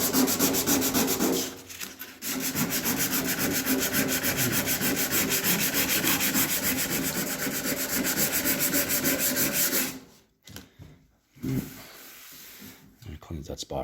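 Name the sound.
hand sanding car fender with 150 grit sandpaper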